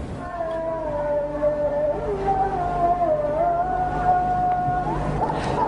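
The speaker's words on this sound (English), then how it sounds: "Azan is the Muslim call for prayer." A muezzin's Azan, the Muslim call to prayer, in Azerbaijan: a single sustained, wavering melodic voice drawn out in long held tones over a steady background hum, somewhat distant and reverberant.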